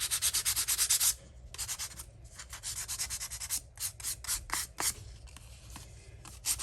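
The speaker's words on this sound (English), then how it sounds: "But I think it would be better with a sanding block." Rhythmic sanding strokes with a sanding block scrape across paper on a stamped sunflower card, a steady burst of rapid rubbing followed by shorter, uneven passes, close and fairly loud.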